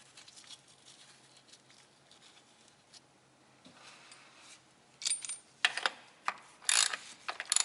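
A ratchet snugs a transfer case bolt on a 1995 Jeep Cherokee XJ 4x4, starting with quiet fiddling and then giving sharp, close clicking bursts in quick uneven runs toward the end.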